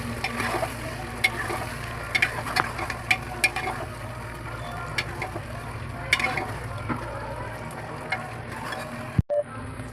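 Chopped tomatoes and green chillies fried with cooked onions in a pan for goat mutton curry, giving a continuous low sizzle with frequent ladle clicks and scrapes, close and unaccompanied by talk, ending in a sharp knock.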